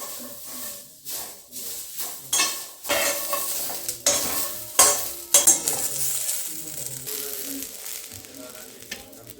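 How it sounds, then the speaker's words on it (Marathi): Crackling sizzle of green chillies, garlic, ginger and coriander roasting in a hot pan, with intermittent stirring scrapes and clinks, close and steady, no talking. "हिरवी मिरची लसूण अद्रक आणि कोथिंबीर हे पण भाजून घेते मी"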